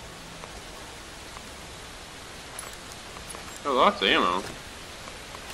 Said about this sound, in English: Get me out of the rain.